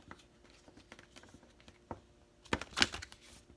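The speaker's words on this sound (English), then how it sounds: "I am terrible at shuffling the oracle cards because I don't like to bend them." Oracle cards being shuffled: soft scattered taps and riffling patter that build into a denser, louder flurry of card flicks near the end, close up and with no talk.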